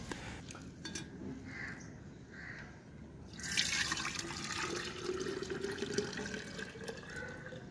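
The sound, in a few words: straining water from soaked mung beans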